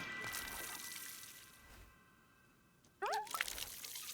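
Watering tree seeds in the video game Wanderstop gives a soft trickling, splashing pour that fades, then a brief chirpy sound effect near the end, all fairly quiet.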